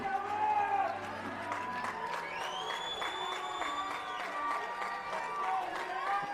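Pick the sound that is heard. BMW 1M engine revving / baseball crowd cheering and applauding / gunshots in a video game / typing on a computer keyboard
baseball crowd cheering and applauding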